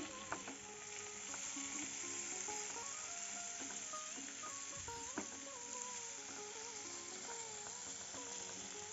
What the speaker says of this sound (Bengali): এখন ঢাকনা খুলে আরেকবার নাড়িয়ে দিচ্ছি করলাটাকে